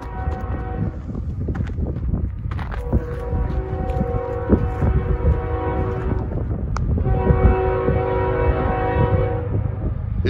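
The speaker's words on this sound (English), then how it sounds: "It'll have a Union Pacific on the point, followed by a City Rail locomotive." Freight train CN 432, led by a Union Pacific locomotive followed by another unit, passes near grain elevators, its horn sounding in long blasts over a heavy low rumble that grows louder as it approaches.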